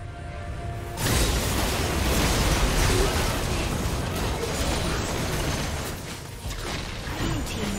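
A turret being destroyed in League of Legends, a sudden loud burst followed by several seconds of dense crumbling, rumbling debris noise that slowly fades.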